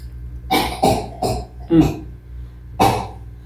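Five short, harsh coughs, four in a quick irregular run and one more after a pause, close by over a low background hum.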